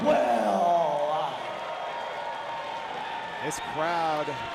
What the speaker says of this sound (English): This crowd amped up for Indi Hartwell